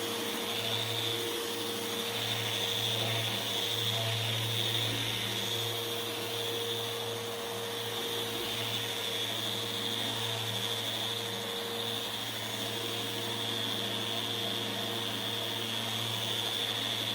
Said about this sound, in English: I always use a finishing sander at the end because it has a slightly different pattern on the 180 grit